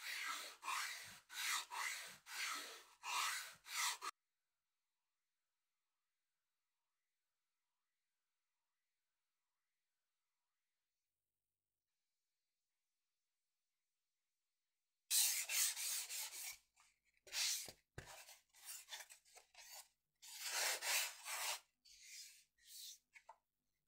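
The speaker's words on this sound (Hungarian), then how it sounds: "Ezt megelőzendő szárnytőbe, ebbe az irányba mozgassuk a csiszolószivacsot." A sanding sponge rubs back and forth over a foam model wing core, giving brisk raspy strokes in two bursts separated by a long silent gap.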